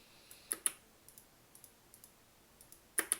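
A computer mouse clicks sharply during 3D modeling work, a couple of quick double clicks near the start and again at the end, with faint lighter taps in between against a quiet room.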